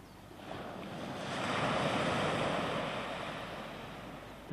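Sea waves break on the sandy shore near Spurn on the English coast, one broad wash of surf swelling louder through the middle and easing off again, with steady wind noise.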